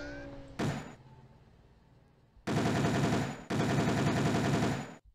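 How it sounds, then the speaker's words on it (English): A machine gun in the Windows game Beach Head fires in loud rapid bursts, one brief burst followed by two long sustained volleys of dense rattling shots. "Just this machine gun."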